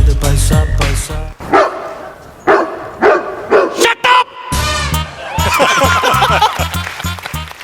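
A dog barks in short bursts amid people talking, with a busy, noisy background of voices and movement.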